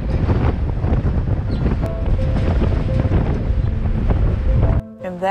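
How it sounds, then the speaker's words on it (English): Strong southwest wind with gusts up to 70 buffets the microphone in a loud, roaring rush that cuts off abruptly near the end. "Southwest winds 40 to 45 with gusts up to 70 expected."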